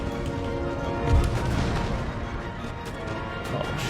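Cannon fire in Empire: Total War, a Great Britain campaign battle: one deep boom lands near the one-second mark over a dense, steady bed of distant battle noise and cavalry rumble, with no talk.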